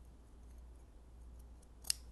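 Scissors cut around the seam of a T-shirt. The snipping is very quiet, with soft, faint blade sounds against a low hum and one brief, sharper snip near the end. No one speaks.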